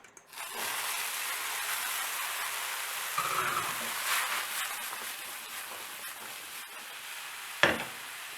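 Mushrooms hit a hot pan and break into a steady, hissing sizzle that continues evenly, with a faint clink of utensils and a sharp tap near the end.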